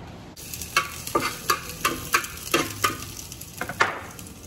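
Sardines are sautéed in a pan with garlic, onion and chili, giving a steady sizzle broken by about a dozen sharp, rhythmic scraping strokes of a spatula, close and loud with no talking.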